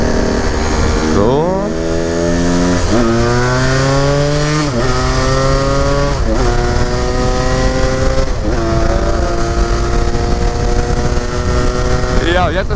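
A Yamaha DT 125 or KTM LC4 motorcycle engine, warmed up, revs repeatedly with its exhaust valve switched open, giving loud rising and falling bursts up close, about five pulls in a row.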